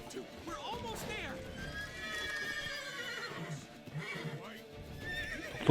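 Horse whinnies and hoofbeats in The Witcher 3 during a storm chase: a drawn-out neigh rises over galloping clip-clop, mixed with game voices and someone talking.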